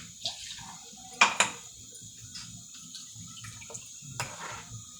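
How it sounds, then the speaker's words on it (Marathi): Water is splashed into a cooking pot still coated with ground masala while making chicken gravy. There are a couple of short, close splashes and clinks, then a quieter one later, over a faint background with no talking. "थोडंसं पाणी घेऊन जरासं पाणी घालून द्यायचं"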